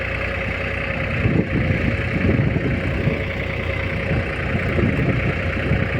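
A New Holland tractor engine runs steadily near Avaniya village in Junagadh district, a continuous low diesel drone with a faint whine and slight fluctuations, close and unbroken with no talk.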